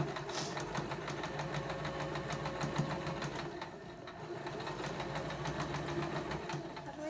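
Sewing machine running straight stitching on pyjama fabric, a steady close rhythmic clatter of the needle that slows briefly midway before continuing.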